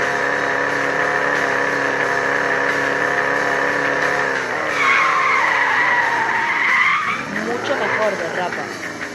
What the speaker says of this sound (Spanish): ¿Cómo derrapa esto?